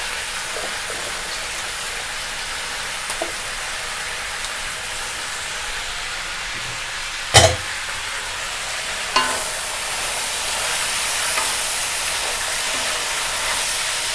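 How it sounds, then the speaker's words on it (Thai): Vegetables stir-frying in a pan with sesame oil, a steady broadband sizzle throughout with a couple of sharp clanks of a utensil against the pan and a slight swell near the end; no voices. "ตามได้ใส่ผักลงไปเลยนะคะ เพื่อน ๆ เราจะผัดผักให้มันสุก"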